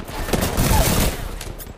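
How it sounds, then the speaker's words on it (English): Rapid bursts of gunfire ring out in a video game, a dense crackling volley that swells and fades over a second or so, close and loud. "Opening fire."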